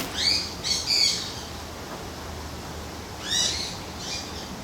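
A large captive owl, one of the largest owl species, gives repeated harsh, raspy squawking calls in short bursts, fairly close and loud, with a pause before a final pair of calls.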